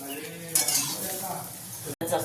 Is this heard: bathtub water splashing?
no